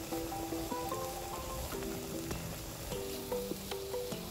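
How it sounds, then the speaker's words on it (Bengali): Spice masala sautéing in hot oil for a rohu fish curry with bottle gourd: a steady, close, dense sizzle that runs throughout, with faint tonal music underneath. "এজন্য আমি একটু সময় নিয়ে মশলাটিকে খুব ভালোভাবে কষিয়ে নিচ্ছি"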